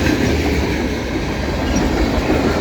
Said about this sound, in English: And we got our auto parts boxcar.